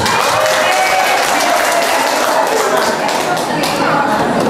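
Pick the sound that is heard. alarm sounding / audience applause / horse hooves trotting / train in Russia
audience applause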